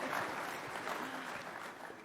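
Applause from a summit audience, steady clapping spread evenly across a crowd, fairly quiet and distant, with a little murmured talk beneath it.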